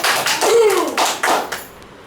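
A few scattered hand claps ring out close by during a home quiz game, sounding as several short, sharp bursts with a brief vocal sound among them before fading.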